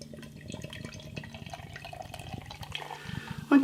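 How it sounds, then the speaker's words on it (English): Brixton Atlantic APA craft beer pours from a bottle into a glass, a soft continuous gurgling trickle close by with small splashes, ending in a brief louder glug. "let's get this beer out into a glass"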